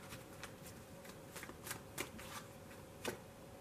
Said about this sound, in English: The cards don't even want to shuffle.